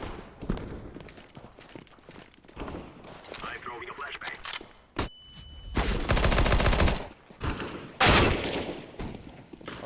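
A tactical shooter video game plays bursts of gunfire and sharp headshot hits, with footsteps and clicks between them and loud clustered volleys near the end, while players talk over the action.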